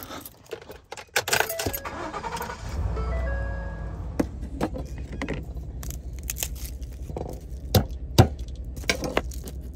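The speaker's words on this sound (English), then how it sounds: "I'm gonna start my truck, keep it in the cab with the heater on" A pickup truck is started on a cold night at a campsite: keys jangle and rattle first, then the engine cranks and catches into a steady low idle that continues under scattered clicks and knocks of handling nearby.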